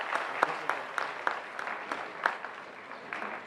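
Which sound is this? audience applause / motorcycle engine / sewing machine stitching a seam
audience applause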